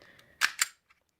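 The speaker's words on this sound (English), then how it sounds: "A little bit of gas spray because I was holding it down." Glock 42 airsoft pistol releasing two short, sharp bursts of gas spray close up after a quiet start, ending in a brief faint tick.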